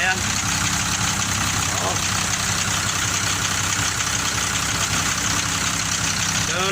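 An engine idles steadily after a fuel system repair for hard starting and fuel lock, a constant low rumble close by, with someone speaking briefly over it.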